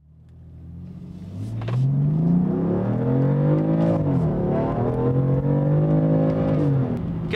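A 2015 BMW M3 on the Mid-Ohio racetrack, its engine rising into a loud, sustained rev as the car accelerates, with shifting pitch through the gears. The sound is close and clear, with no talking.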